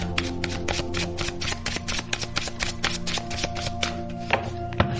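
Tarot cards being shuffled and drawn, with a steady run of soft, rapid riffling taps and flicks, close and fairly quiet over a low background hum.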